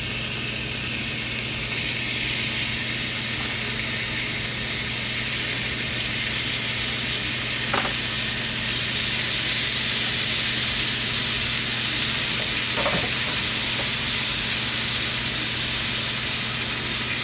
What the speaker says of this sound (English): we're going to brown our pork chops